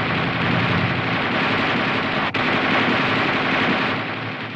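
M551 Sheridan light tank coaxial machine gun firing a sustained burst of 20 to 25 rounds, a dense, loud, continuous rattle filling the whole stretch with a brief hitch midway and no voices.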